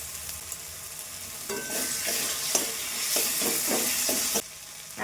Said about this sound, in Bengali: এবার ভালো মতন মশলাটা আমি কষিয়ে নেব